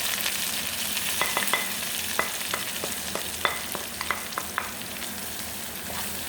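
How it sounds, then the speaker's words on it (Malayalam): Ground pepper, masala and fennel powder fry in a pan for beef stew, giving a steady close sizzle with a run of sharp scraping stir clicks over it. "ഒരു വലിയ സ്പൂൺ കുരുമുളക് പൊടി, മസാലപ്പൊടി, എല്ലാ സ്പൈസസും കൂടി പൊടിച്ച മസാലപ്പൊടി, കുറച്ച് വലിയ ജീരകം പൊടിച്ചത് കൂടി ആണ് ഇതിലിട്ടിട്ട് നമ്മൾ കാച്ചുക"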